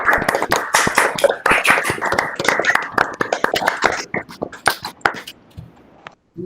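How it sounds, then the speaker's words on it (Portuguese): A small audience at an academic algebraic geometry session claps for a speaker, a dense burst of sharp hand claps that thins out toward the end, with a brief voice at the close. "Vamos parabenizá-la novamente com nossas palmas."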